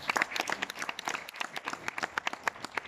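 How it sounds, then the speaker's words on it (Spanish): Church congregation applauding after a sermon, scattered hand claps crowding together into loose, uneven applause from a moderately sized group, close and fairly faint. "Vamos a darle un fuerte aplauso a Dios."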